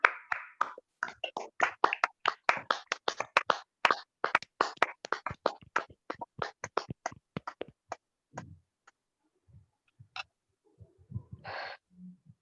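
A group claps loudly at a meditation and spiritual session, with dozens of sharp, close hand claps in a quick, uneven burst for about eight seconds, then a few scattered soft knocks and faint sounds in near silence.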